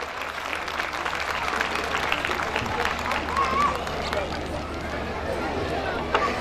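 An audience at a school annual day celebration gives a loud, continuous round of applause for student award winners, the clapping dense and steady, with voices mixed in.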